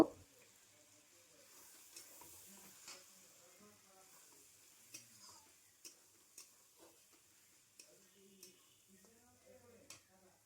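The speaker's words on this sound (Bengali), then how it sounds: "এবার আমি এর মধ্যে দিয়ে দেব পরিমাণ মতো সয়া সস দিয়ে এটাকে একটু নেড়ে নেব" Egg chilli with soy sauce is stirred in a pan, giving a faint, steady sizzle with soft, irregular scrapes and taps of the spoon against the pan.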